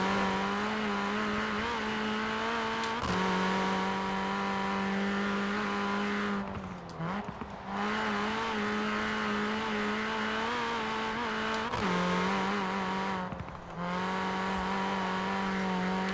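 A Mini Cooper John Cooper Works in Forza Horizon 4 holds a loud, steady engine note, with pitch dips at gear changes and a couple of brief cuts before it climbs again.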